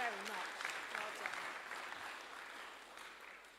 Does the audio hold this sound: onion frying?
no